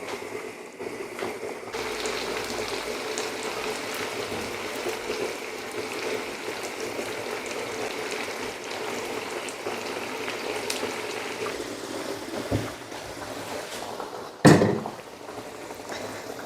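Onion and tomato paste simmer together in a pot for a sorrel soup, making a steady, soft bubbling hiss close by, with a brief utensil clatter near the end.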